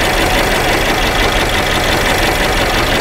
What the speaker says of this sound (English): have this engine running, it's definitely misfiring and the engine is cold.